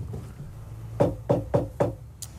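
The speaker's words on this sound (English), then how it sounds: "they still knock on the door" Four firm knocks on a residential door land in an even, steady rhythm with a short pause between each, close and clear against a quiet room.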